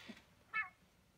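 A pet cat lets out a single short meow, close by and fairly clear, in an otherwise quiet room during a watercolor crafting session.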